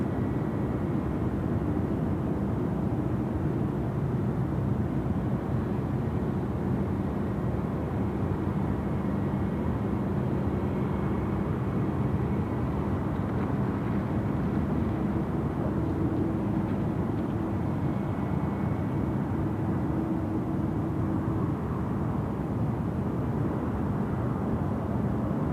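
A steady, heavy rumble of aircraft engines fills the air at Sydney Airport, a continuous low roar without breaks that sounds like a jet taxiing or spooling up at a distance.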